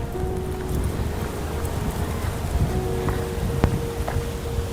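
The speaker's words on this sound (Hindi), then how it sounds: "ये सबसे बड़ा वाटरफॉल है आई थिंक" The waterfall at Malshej Ghat gives a broad, steady rush of falling water, with a few scattered splashes and drips over the continuous roar and no talking.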